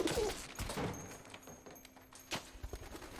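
Pigeons coo and flutter in a film scene from Final Destination 3 (2006), mixed with scattered thumps and soundtrack noise at moderate loudness, no clear talk.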